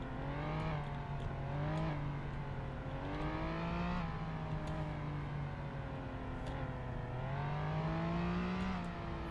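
A car drives in the game Flashing Lights with a steady, close engine drone whose pitch rises and falls as it speeds up and eases off, continuous throughout with faint clicks.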